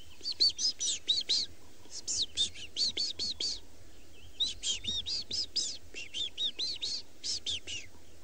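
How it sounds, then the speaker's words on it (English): Repeated bursts of high, rapid chirping birdsong from white-browed scrub robins and waxbills in several phrases, fairly close, with brief pauses between them over a quiet background at sunrise in Tswalu. "A couple of white-browed scrub robins,"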